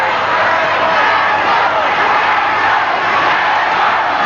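A 1988 Panasonic Cup rugby league crowd at Penrith versus Brisbane urges on the Panthers, a loud continuous roar of massed voices that fills the whole stretch, with a commentator's voice heard over it.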